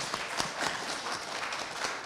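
An audience at a children's environmental education event gives light, scattered applause for two young presenters, fairly faint and steady throughout.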